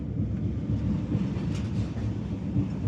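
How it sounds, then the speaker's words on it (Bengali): The 13126 Sairang Express rolls across the Farakka barrage with a steady, close, continuous rumble of wheels and carriages, low and even, with no voices. "এই মুহূর্তে ট্রেন কিন্তু ফারাক্কাতে আছে। ফারাক্কা বাদ পার হচ্ছে"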